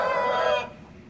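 A rooster in a chicken house gives the loud, drawn-out tail of a crow that cuts off abruptly, leaving faint background hush; no voices.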